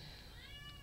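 Newborn Japanese Bobtail kittens, barely a day old, mew softly and continuously: thin, high-pitched overlapping cries that rise and fall over a low background rumble, faint and close, with no talking.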